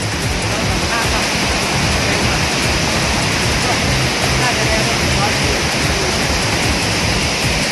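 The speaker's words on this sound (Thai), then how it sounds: "สวยมากน้ำตกห้วยแก้ว" Huai Kaeo waterfall, swollen and muddy after heavy rain, roars in a loud, continuous broadband rush that fills the whole stretch without a break.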